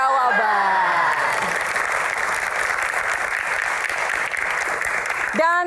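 Studio audience applause fills the room in a dense, steady roar of clapping that holds evenly throughout, with a voice briefly heard at the start and end.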